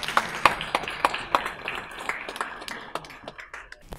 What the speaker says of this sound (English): A big round of applause, please, for Akashdeep.